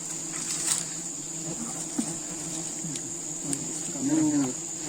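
Sialang honey bees at a wild hive, a steady high insect buzz with a few individual bees droning past up close, all under a constant hum.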